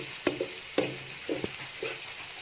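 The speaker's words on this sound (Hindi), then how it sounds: "हमने इसको ब्राउन नहीं करना, बस इतना हमने इसे भूनना है कि इनका कच्चापन ख़त्म हो जाए।" Garlic stirred and fried in a pan for chutney: four distinct scraping strokes with a spoon, each followed by a short burst of close, light sizzling over a quiet, steady background, with no voices.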